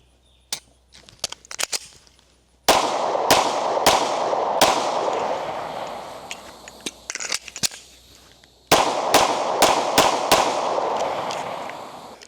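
Sharp gunshots from a Smith & Wesson M&P Shield 9mm pistol fired outdoors, coming in quick bursts of several loud, echoing shots separated by short pauses.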